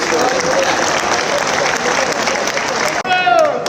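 Applause from an award ceremony audience at the Housekeeping Olympics in Antalya, a continuous mass of clapping with voices mixed in, ending in a brief dropout before a tonal swell rises at the close.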